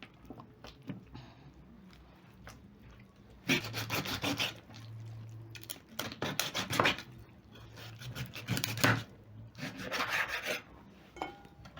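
Butcher's knife chopping a raw rabbit into pieces for stew, snapping joints and cutting through bone: rough chopping and scraping in several bursts, close and fairly loud, with quieter pauses between.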